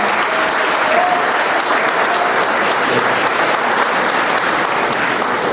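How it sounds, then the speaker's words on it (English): Loud, sustained applause from a crowd at a memorial tribute for fallen heroes, greeting the mayor as he comes to the stage, steady and close throughout with no talk. "Please give him a round of applause."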